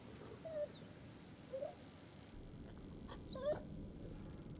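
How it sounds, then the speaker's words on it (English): Dog whimpering in the horror game The Devil In Me inside a dilapidated house: three short, high rising whines spaced apart, fairly faint over a steady low ambient rumble. "Oh, I hear that dog."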